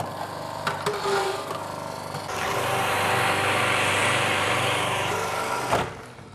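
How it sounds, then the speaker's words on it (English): A Magimix food processor making juice whirs steadily at close range, its motor rising into a loud, sustained high-pitched hum after a few brief knocks. "you can actually make a perfectly good juice with your Magimix food processor"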